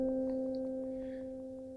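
A synthesizer patch with stereo panning plays as a steady, sustained two-tone drone with faint, regularly pulsing ticks above it, heard alone at moderate volume.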